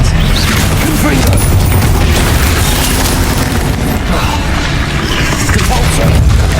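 Confringo spell explosions in Hogwarts Legacy burst in rapid succession, dense and loud, a continuous barrage of booms and blasts mixed with shouted spell incantations.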